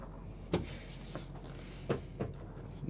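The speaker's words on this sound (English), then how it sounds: "when I'm opening and closing these doors, they are now using the soft close on the doors as well as all the drawers" Soft-close cabinet doors and full-extension drawers in a 2025 Renegade XL 45 DBM motorhome being opened and closed. There are several soft, muffled thumps and brief slides, spaced apart, in a quiet interior with no talk.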